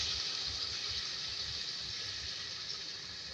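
Water pours into a pan of potatoes and eggplant cooking for a dhaba-style aloo baingan sabzi, a steady close hiss and splash of liquid running without a break and fading slightly at the end.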